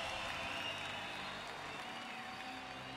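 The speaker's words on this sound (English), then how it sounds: "the crowd have been marvellous this evening" Crowd at a Rio 2016 men's wheelchair basketball game between Great Britain and Brazil applauds and cheers in a large arena, a steady diffuse roar of clapping and voices at moderate distance.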